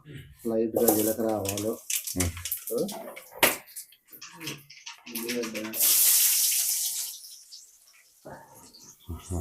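Rice being washed in water for a chicken rice dish, heard as splashing, running water that swells in the middle of the clip, mostly under steady talk.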